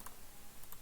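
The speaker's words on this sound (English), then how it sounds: "You're going to be typing" Computer keyboard typing while a website is being coded, a few quick key clicks close to the microphone with no talking.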